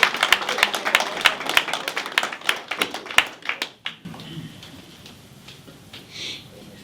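Audience clapping with sharp scattered claps at a Belgian investiture ceremony, moderately loud for about four seconds, then tapering off into quiet room noise with a faint voice.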